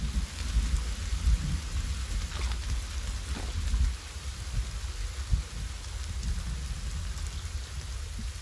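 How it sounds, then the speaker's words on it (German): Steady rain pours in the video game Sons of the Forest, a dense constant hiss with low rumbling underneath, continuous and fairly close with no speech. "Es regnet auf mein äh, Bankett."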